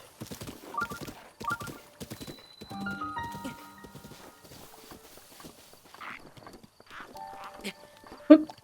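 Hooves clip-clop from a horse in Zelda: Breath of the Wild, moving at a walking-to-trotting pace with a brief whinny, under steady game music and a person talking over it.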